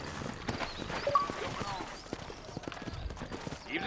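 Horse hooves clip-clopping in Red Dead Redemption 1 set in New Austin, a steady run of soft, quick hoof impacts at moderate distance, continuing beneath game character talk.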